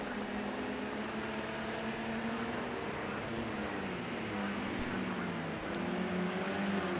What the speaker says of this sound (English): But still the Mercedes driver holds on from Graham's Renault